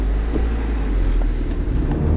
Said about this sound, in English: let's take this for a drive and see how it's shifting